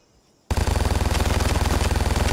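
Sniper rifle fire in the shooter game Vigor: a sudden loud blast after half a second of near silence, followed by a dense, rapidly pulsing roar of gunfire that continues steadily to the end, with no talking.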